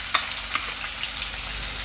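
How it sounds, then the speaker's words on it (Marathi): Curry leaves and ground green chili paste hit hot oil in a pan while cooking samosa filling, giving a steady soft sizzle with a couple of sharp crackles near the start. "आता हे आपण सगळं फ्राय करून घेऊ।"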